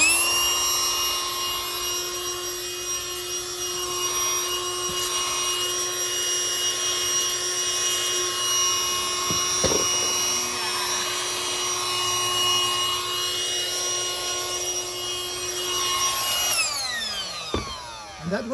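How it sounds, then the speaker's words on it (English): A small blower whines steadily at close range, clearing debris from a pressure-treated lumber base, its pitch wavering as it is swept around before cutting off near the end. "we're going to start by using a little blower"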